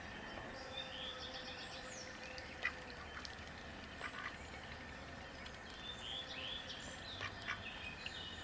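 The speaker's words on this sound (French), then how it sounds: "Depuis que j'ai acheté ces 3 canards coureurs indiens, ils se portent bien, ils sont en pleine forme." Three Indian runner ducks quacking outdoors in a garden, faint and somewhat distant, with intermittent short calls spread through a quiet background.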